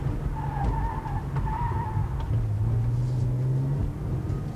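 A car skids through a slalom on a test track, tires squealing in sustained tones over a steady engine rumble, close and loud throughout.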